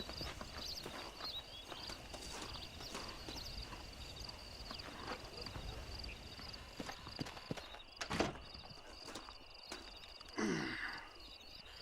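Horses in the Red Dead Redemption video game on Xbox 360 clip-clop steadily at a walk, hooves thudding faintly in a quiet outdoor scene, with a brief snort or whinny near the end.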